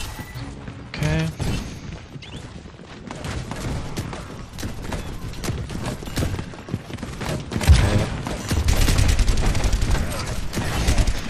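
Rapid automatic gunfire rattles in dense bursts from Overwatch gameplay while shooting at a wall, with loud thuds and mechanical clatter layered throughout and a voice talking over it.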